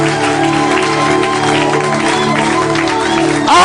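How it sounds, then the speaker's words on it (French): A church congregation applauding as an offering of acclamation to God, a dense continuous roar of clapping with mixed voices, loud and close throughout. "Est-ce qu'on peut donner à Dieu une offrande d'acclamation?"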